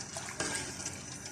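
Water heats for macaroni in a saucepan, giving a faint, brief bubbling and sloshing sound with no one speaking.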